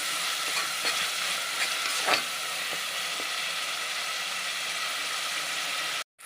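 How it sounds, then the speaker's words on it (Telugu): Spice paste frying in a pan for drumstick mutton curry, a close steady sizzle with a few soft stirring scrapes, ending abruptly in a brief silence. "ఇలా వేసేసి కొంచెం పచ్చి వాసన పోయే వరకు వేపేసుకోవాలండి"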